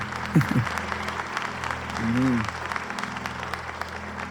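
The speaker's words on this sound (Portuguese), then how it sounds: "E pode aplaudir o nome do Senhor aí." A church congregation applauds in steady, dense clapping throughout, with a few short voices rising briefly over it near the start and again midway.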